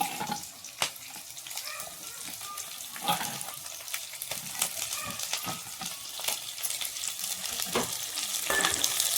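Chopped onion and capsicum frying in a pan for soybean chilli, a continuous hissing sizzle with stirring scrapes and occasional clatters, close and steady.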